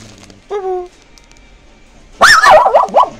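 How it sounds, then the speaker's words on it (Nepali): A dog near a road on a motorbike ride toward Kerabari gives a short whine, then a burst of loud close barks and yelps after a pause. "यहाँ चाहिँ कुकुर फेरि यस्तो पऱ्यो"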